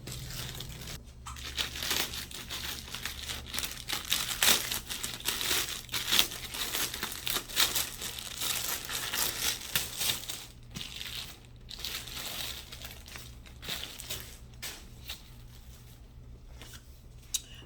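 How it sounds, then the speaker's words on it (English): A Dooney & Bourke Tasha Drawstring bag in blush is unwrapped from its packaging, giving continuous close crinkling and crumpling of wrapping with brief tearing rustles, and no talking. "we're gonna go ahead and unwrap this bad boy"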